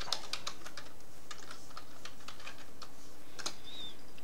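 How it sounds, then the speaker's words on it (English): Password being typed on a computer keyboard while logging into a BeagleBone Black board over SFTP: a run of light, irregular key clicks at close range over quiet room tone, with no talking. "Type our password in"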